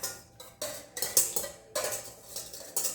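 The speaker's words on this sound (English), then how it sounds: "you want to whisk that?" A whisk clinking and scraping through muffin batter in a bowl, a series of quick, close metallic strokes in uneven bursts, with no talking.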